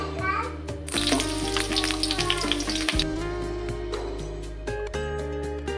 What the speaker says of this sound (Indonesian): Ini minyaknya sudah panas, kita masukkan dulu bawangnya.